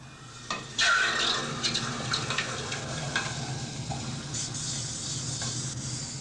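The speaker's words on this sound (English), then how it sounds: "We'll cool it rapidly, or quench it, in cold water." Steel heated to 900 °C is plunged into cold water and quenched, giving a sudden loud hiss that settles into a steady bubbling sizzle close to the microphone, with no talking.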